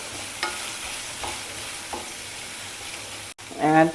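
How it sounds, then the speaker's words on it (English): Vegetables with green chili, ginger, curry leaves, carrot and green peas stir-fried in a pan: a steady close sizzle with a few soft scraping stirs, ending in a brief louder clatter. "Now stir fry all the vegetables together."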